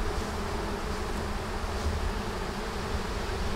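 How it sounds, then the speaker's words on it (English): A swarm of honeybees buzzes in the open air, a dense continuous droning hum from many insects around a cedar tree, steady and fairly close with no voices. "So look at all those bees."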